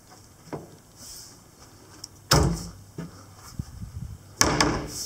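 Cabinet doors inside a 24x40 mobile trailer being opened and shut, with soft handling clicks and two sharp, loud knocks of the doors swinging against their frames, close and without talk.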